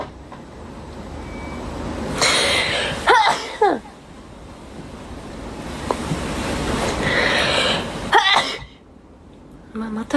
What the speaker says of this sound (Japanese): またくしゃみがやばいよ。